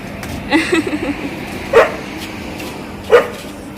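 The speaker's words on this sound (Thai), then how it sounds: "เอาเห่าอีกละเห่าอีกละ" A pet dog barks outdoors at night during a lunar eclipse: a short burst of yipping followed by two separate sharp barks, close and clear, with someone talking around them.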